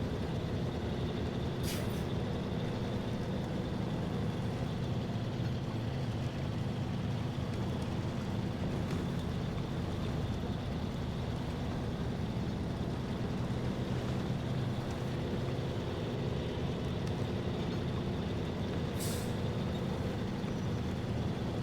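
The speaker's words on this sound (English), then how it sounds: "This truck has plenty of power." A powerful truck engine labors uphill in high gear, a loud, unbroken low drone and rumble with a couple of brief hissing bursts, no voices.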